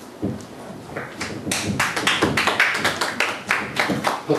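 Audience at an outdoor Buddhist dharma gathering in the Jirisan mountains breaks into scattered clapping that swells into a dense burst of many hands, close and lively, with no talk over it.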